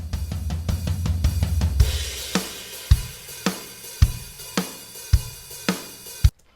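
A shuffle blues drum groove with booming kick and sharp snare hits landing in a steady, swinging rhythm, played alone and fairly loud.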